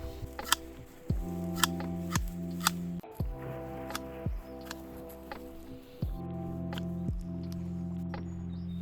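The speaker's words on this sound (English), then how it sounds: "So let's get this chopped down and see how we go." Ornamental grass being cut down with garden shears: a series of sharp, close snips roughly every second, separated by rustling of the grass stems, with no talking.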